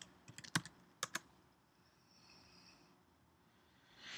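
A short burst of close keystrokes on a computer keyboard, several quick clicks in the first second and a half, then quiet room noise.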